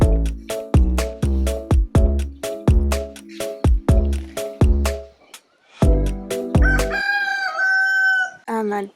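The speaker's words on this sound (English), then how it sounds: "I'm at the chickens again." Chickens clucking in rapid rhythmic bursts close by, followed by a rooster's loud drawn-out crow near the end, heard outdoors at a park.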